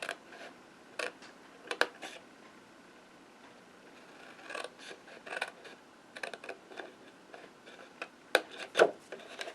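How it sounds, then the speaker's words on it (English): A blade cuts along a score line on a cardboard box, producing soft, scattered scraping and rasping strokes in short irregular bursts, close by and fairly quiet. "cut this score line out"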